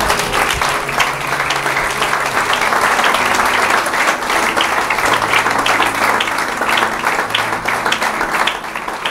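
A church congregation applauding to acclaim the Lord, steady loud clapping from many hands filling the room for several seconds, with a few faint voices mixed in.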